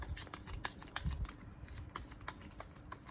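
Angel oracle cards are shuffled by hand in soft, rapid riffling bursts, close but faint, in a quiet room.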